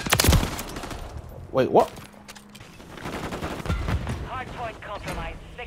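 Bursts of automatic gunfire and single shots crackle through a Call of Duty Modern Warfare 3 multiplayer match, loud at the start and scattered throughout, with a brief spoken exclamation partway through.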